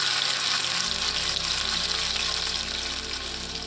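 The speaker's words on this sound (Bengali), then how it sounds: "তেল তেতে গেছে, ওই তেলের মধ্যে আমি যে লঙ্কা কুচিগুলো করে রেখেছিলাম সেইগুলো দিয়ে দিচ্ছি।" Chopped green chillies hit hot mustard oil with a loud, dense, continuous sizzle that spreads broadly, easing slightly toward the end without a break, and no voice over it.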